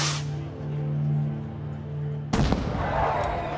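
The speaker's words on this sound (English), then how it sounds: "Finally, when that rocket goes off," Starting rocket at the Pamplona bull run bursts loudly after a steady low rumble of crowd noise, a sharp explosive crack followed by a broad, noisy wash of sound that lingers to the end.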